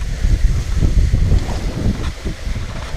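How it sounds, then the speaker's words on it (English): Strong, steady wind buffeting the microphone with a low rumble throughout, no talking. "It's windy in here today."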